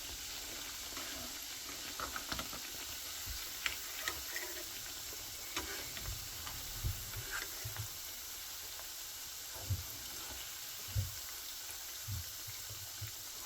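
Shami kebabs sizzle quietly in a pan with a soft steady frying hiss, broken by a few light scrapes and taps as the patties are turned.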